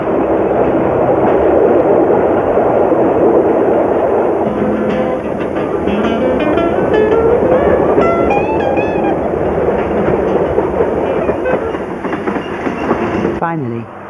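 A passenger train travels through the desert with steady rolling wheel noise and faint clickety-clack, loud and continuous beneath a narrator's voice and music.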